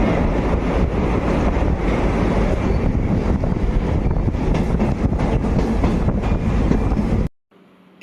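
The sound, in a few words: train crossing Sevoke river bridge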